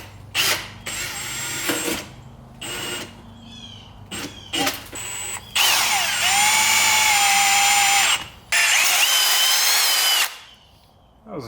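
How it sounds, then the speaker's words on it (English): Power drill boring through a go-kart seat, close and loud: several short whining bursts, then a longer sustained drilling run and another push before the motor stops. "That wasn't too bad to drill through."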